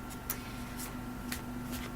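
Tarot cards are shuffled by hand in quick, repeated riffling bursts, crisp flicks recurring every half second or so over a low steady hum.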